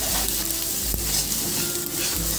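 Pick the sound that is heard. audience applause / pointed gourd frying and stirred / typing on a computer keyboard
pointed gourd frying and stirred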